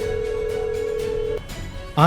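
An outgoing telephone call gives a steady, unbroken ringing tone that holds for over a second, then cuts off. A voice starts right at the end.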